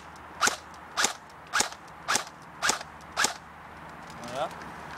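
Airsoft gun fired in semi-automatic mode: six sharp, evenly spaced snapping shots about half a second apart, close and crisp over a quiet background, followed by a soft mechanical whir.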